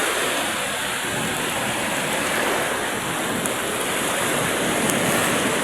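A steady, broad rushing of rough sea water at night from a boat in strong wind, constant and fairly loud with no breaks or voices.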